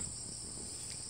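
Crickets or birds chirping around a weeping cherry tree in summer, a steady high-pitched drone running unbroken and fairly loud throughout, with no voices.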